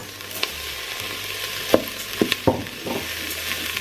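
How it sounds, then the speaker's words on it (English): Rice tipped into softened onions frying in hot oil inside a Cosori pressure cooker, giving a close, steady sizzle with several sharp clatters and stirring knocks. "Now my onion's nicely soft, I'm going to add in my rice."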